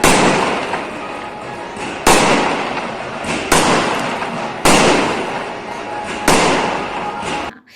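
Five loud fireworks bursts boom in succession at a celebration of a daughter's birth in Jaspur, each followed by a crackling, decaying rumble, evenly spaced over several seconds.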